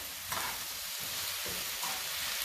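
Onions sautéing in a pan over a medium flame, a close, steady crackling sizzle with soft stirring and tossing sounds woven through, no voices.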